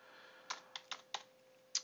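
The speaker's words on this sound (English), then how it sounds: "So I'm going to type in asphalt" Half a dozen crisp keystrokes tap out on a computer keyboard in an irregular rhythm, close and fairly quiet over a faint steady hum.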